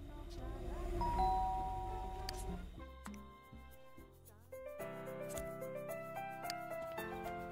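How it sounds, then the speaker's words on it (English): Doorbell ringing in The Sims 2 video game, a clear chime tone followed by soft game music with plucked notes, quiet and without speech. "I'll let him ring the doorbell"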